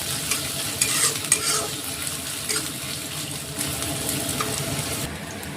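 Onions frying in oil for a village-style aloo paratha, a steady close sizzle with scraping stir strokes running throughout and brief louder crackles, no talking.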